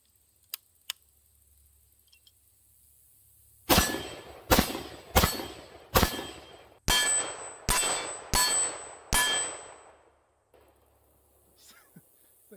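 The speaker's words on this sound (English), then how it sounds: "we're also just shooting some steel-cased ammo" Rifle firing steel-cased ammunition at an AR500 steel target: eight loud, evenly spaced shots, each followed by a sharp metallic clang and ringing, fired alone with a few faint clicks before and after.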